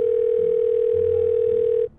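A steady telephone dial tone plays loudly and unbroken for nearly two seconds before cutting off abruptly, heard while placing a phone call.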